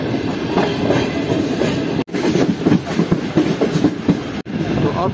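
The Karachi Express runs along the rails in a steady rattling rumble with rhythmic clickety-clack of wheels over joints, picking up speed, heard from on board with two brief gaps in the sound.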